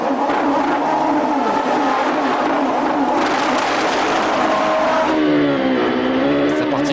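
Champ Car open-wheel race car at the Long Beach street circuit accelerating away from a pit stop, a loud continuous engine roar with rising pitch as it revs up, steady throughout with faint crowd ambience.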